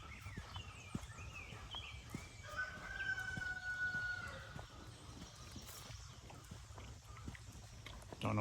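A rooster crows and chickens cluck on a farm where pigs also wander, with continuous busy animal calls and rustling throughout, fairly close and at moderate level; no one talks.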